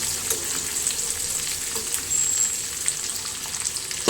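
Ingredients fry and sizzle in a hot pan while being stirred, a close, steady crackling hiss with scattered sharper pops and scraping touches and no voices.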